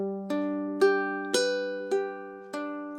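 A ukulele fingerpicking pattern for Silent Night: six single plucked notes, evenly spaced and ringing into one another, soft and close with no voice.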